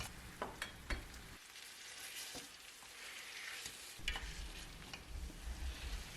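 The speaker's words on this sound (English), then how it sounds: "Then add the potatoes and mash them with potato masher." Boiled potatoes mashed with a potato masher in a pan with tomato and pepper paste for a Turkish home-cooked dish, giving repeated close scraping and soft squelching thuds with a light sizzle beneath.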